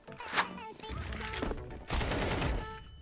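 Rapid gunfire bursts from a first-person shooter video game crackle up close in a few quick clusters, with game sounds layered around them.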